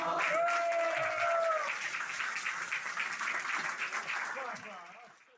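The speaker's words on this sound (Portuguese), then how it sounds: "Para o menino Rui, uma salva de palmas." Studio audience applause on a television show, a thick wash of clapping with a voice calling over it at the start, fading gradually toward the end.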